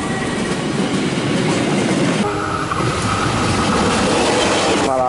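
A ballast train rolls through Cimekar station in Bandung, its wheels and cars rumbling loudly and steadily the whole time, with a horn-like tone rising near the end.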